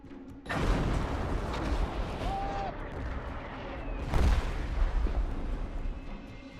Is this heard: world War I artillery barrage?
yes